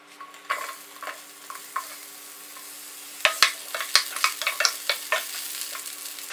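Onions go into hot oil in a pan, setting off a steady close sizzle with scattered crackles and pops that grow busier as they are stirred.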